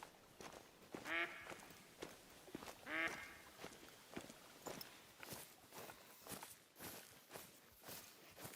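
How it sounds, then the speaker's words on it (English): Ducks quacking in Hunter: Call of the Wild, two short quack bursts amid soft rustling footsteps through vegetation, fairly quiet and nearby. "Of course, there'd be some ducks."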